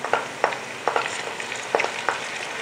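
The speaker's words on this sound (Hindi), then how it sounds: "प्याज को हल्का सा फ्राई करना है, ज़्यादा कलर नहीं आना चाहिए" Onions frying lightly in a pan for Lucknowi mutton pulao, a soft, steady sizzle with a few sharp crackles and spatters, close by and fairly quiet.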